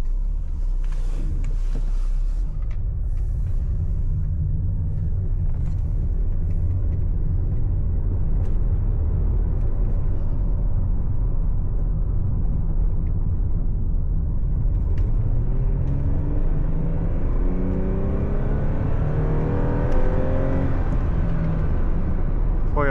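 A Lexus ES350 with a 3.5 V6 rumbles steadily from inside the car, then its engine note climbs clearly in pitch as it accelerates toward the end, with no talk.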